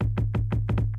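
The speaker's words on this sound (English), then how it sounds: "so now the kick sounds like this" A kick drum sample in a programmed beginner drum pattern, thumping about six times in a fast steady rhythm, punchy and alone, with a faint brighter hit near the end.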